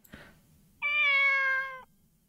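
A single cat gives a long, clear, drawn-out meow, close and loud, in the Kagetsu Tohya visual novel, preceded by a soft faint thump and rustle.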